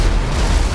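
A tank on a rampage in GTA 5 sets off a loud, close in-game explosion, a dense sustained rumbling blast that fills the short moment with no voices.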